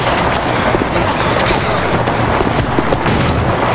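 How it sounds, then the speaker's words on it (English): Rapid gunfire from Left 4 Dead 2 rattles in dense, overlapping bursts, loud and continuous amid booming game noise. "Hold on, I'm gonna go back and shoot that tattoo disaster."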